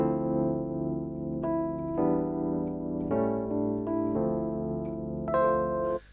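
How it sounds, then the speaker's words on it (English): Early 1980s Mark II Rhodes electric piano, played from a Reason NNXT sampler with the sustain pedal down, gives warm, bell-like sustained chords that change about every second, with no voices. "So it's the early 80s Mark II Rhodes,"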